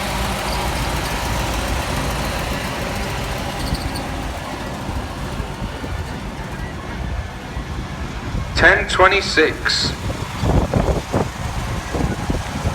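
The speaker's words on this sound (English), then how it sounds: "That's the 1920 Leyland fire engine, owned by M. Elmridge of Grantham." A 1920 Leyland fire engine runs steadily at a steam fair, its low engine rumble continuous under nearby talk and crowd noise, with louder mechanical bursts toward the end.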